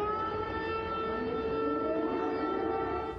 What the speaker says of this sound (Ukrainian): В окупованих містах періодично виють тривожні сирени.